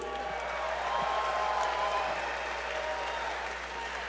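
Crowd at an MMA event applauding and cheering in a steady, dense roar that fills the space, loud and continuous with no breaks.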